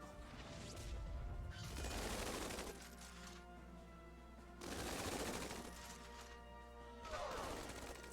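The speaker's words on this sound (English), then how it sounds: "Lock on. And then we're going to focus fire." Bursts of rapid video-game gunfire from units focusing fire in Tiny Metal come in three separate loud volleys, with a steady music or engine drone between them.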